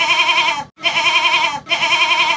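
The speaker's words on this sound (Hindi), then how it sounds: "यार यहाँ पे डिफरेंट कलर्स के बकरे हैं" Goats at the Deonar goat market bleat loudly and close by, three long harsh calls in a row separated by brief pauses, with no talk over them.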